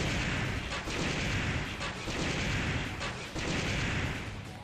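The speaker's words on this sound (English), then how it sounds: "Dodge the gunfire." Ninja Gaiden Sigma on Master Ninja mode: dense, continuous gunfire and booming blasts fill the game, with bursts of louder impacts at intervals and no talk over them.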